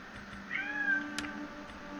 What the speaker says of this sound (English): let me let this cat out